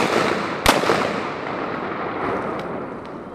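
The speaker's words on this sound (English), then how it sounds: "Get ready, shoot one of those right there." A single sharp shotgun blast goes off near the start during a waterfowl hunting outing, followed by a fading echo over steady outdoor background noise.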